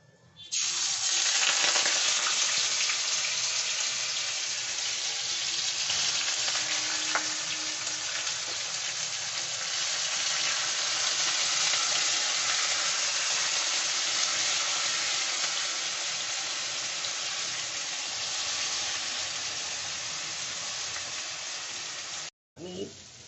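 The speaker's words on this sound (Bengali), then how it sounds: "দু বাটি চাল ভিজিয়েছিলাম এক বাটি আমি ভাজছি" Soaked rice frying in a pan with cardamom, cloves and cinnamon for mutton keema pulao, a steady loud hiss and sizzle that continues almost without a break.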